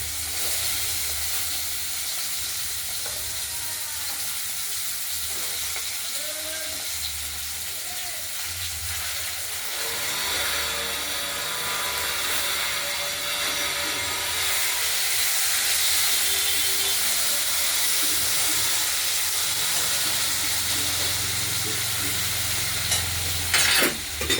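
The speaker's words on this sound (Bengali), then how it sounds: "আলুগুলো প্রথমে আমরা ভেজে নেব সবই দিয়ে দেবো হ্যাঁ আলু সিম একসঙ্গে দিয়ে দেবো" Potatoes and flat beans fry together in a pan, giving a continuous close sizzle and steamy hiss with occasional stirring scrapes, slightly louder in the second half.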